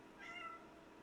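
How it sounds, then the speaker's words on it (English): A single short cat meow rises softly and briefly over a faint background hum, quiet and somewhat distant. "are you meowing about?"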